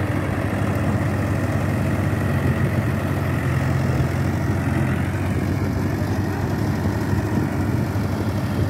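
Thirty-year-old tractor engine chugging at a steady idle while a trolley is loaded with soil, a loud, continuous low rumble close by with no pauses.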